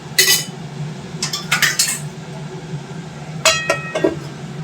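A metal lid clanks onto a cooking pot of squash and potato curry, with several sharp clinks and rattles in short bursts over a low steady background hum.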